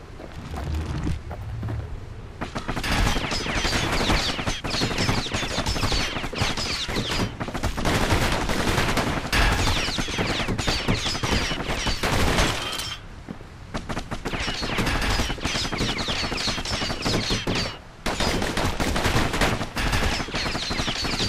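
Dense, continuous rapid gunfire from twin pistols in the Bastion video game, loud and sustained in long bursts with brief pauses between them.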